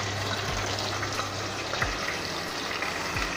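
Water poured into ground onion masala in a cooking pot gives a steady broadband hiss and sizzle for a few seconds, close and even, with no talking.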